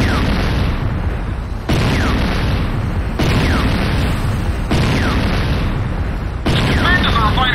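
Weapons factory being destroyed in the video game Renegade, with a series of about five loud, heavy explosion booms in steady succession, each dropping into a rumbling roar, and no talk over them.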